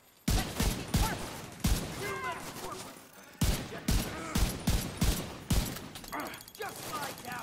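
Video game turret machine gun firing in loud, repeated bursts with sharp gunshot cracks and gaps between volleys, heavy and close, with shouted voices over the gunfire.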